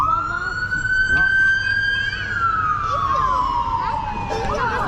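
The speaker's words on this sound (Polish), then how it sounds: "Straż pożarna" A fire engine siren wails close by in Orlando, Florida, at night, with a steady high tone that rises and then slowly falls as it passes. A faint voice is heard partway through.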